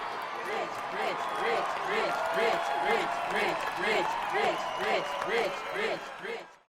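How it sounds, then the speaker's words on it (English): Audience at a Rotary presentation applauds a pitcher's strike with pulsing, rhythmic clapping and voices mixed in, loud and steady for several seconds before cutting off abruptly. "Let's all give him a big round of applause"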